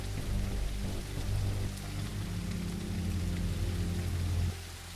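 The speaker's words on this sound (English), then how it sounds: "It's raining." Steady rain falls in a co-op video game, a dense, even hiss with low rumble that holds close and continuous before cutting off abruptly near the end.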